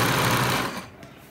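A sewing machine runs steadily, stitching a side pocket onto a salwar along an existing belt seam, then fades and stops after about a second.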